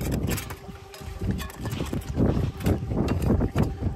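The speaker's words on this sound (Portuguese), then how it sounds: "Tirando esses olhinhos de craca aqui." Repeated rough scraping of barnacles off an outboard motor, irregular strokes close to the microphone, with wind and outdoor noise around them.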